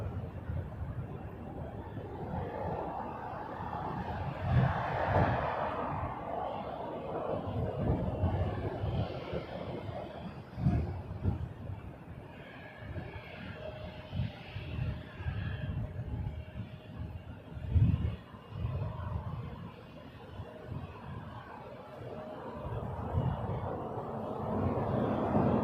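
Engines of an Avianca Airbus A320-200 in Star Alliance livery at Toronto Pearson: a low rumbling roar rising and falling at moderate distance, with wind buffeting in the background.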